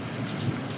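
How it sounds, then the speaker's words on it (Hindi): Heavy rain pouring in Faisalabad during a thunderstorm, a dense steady hiss of rainfall with a low rumble of thunder swelling briefly underneath. "ये बादल गरज रहे हैं, बड़े ज़ोर से बादल गरजा था अभी"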